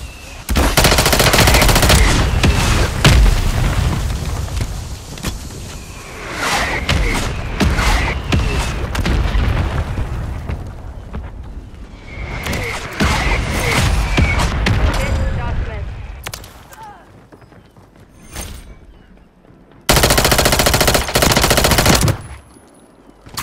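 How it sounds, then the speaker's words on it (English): Mortar strike explosions and heavy machine-gun fire in a video game, loud close bursts of rapid gunfire and booming blasts in waves, with voices talking between the volleys. "Copy that. Mortar strike inbound."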